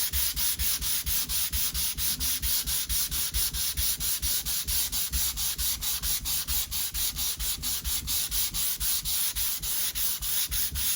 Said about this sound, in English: I'm just going to go to the 240 grit now, just to smooth this off a little bit more.